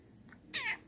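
A cat in an RV at Christmastime gives a single short, fairly faint meow with a rising-then-falling pitch, alone against quiet background.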